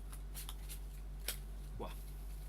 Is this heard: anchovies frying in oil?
no